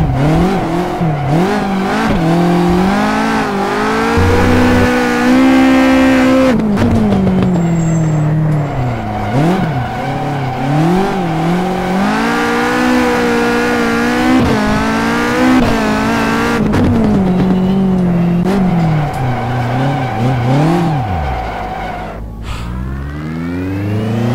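Caterham 620R driven hard around a kart track: loud, close engine roaring and revving through repeated gear changes and rising, falling pitch, with occasional tire noise, continuous throughout.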